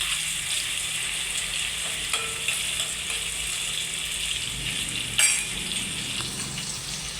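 Onions frying in a pan for a raw mango curry, a steady soft sizzle with occasional stirring clinks and scrapes, close and moderately quiet with no talking.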